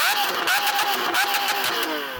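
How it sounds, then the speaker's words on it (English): An original Lamborghini Aventador's V12 revs in quick repeated bursts, a loud high-pitched wail rising and falling several times close by, with a voice heard briefly amid the engine. "can you rev up your V12 please?"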